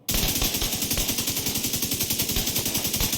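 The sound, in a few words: FAL rifle firing in Division 2 video game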